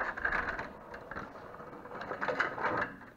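A Warn M8000 winch freespools on a Jeep, its gears giving a soft, uneven whirring and ratcheting clatter that rises and falls in short surges, fairly quiet and close, with no talking.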